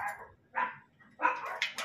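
A few short, faint dog barks and yips in quick succession, somewhat distant, over low background noise.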